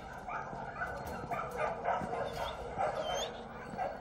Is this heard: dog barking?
yes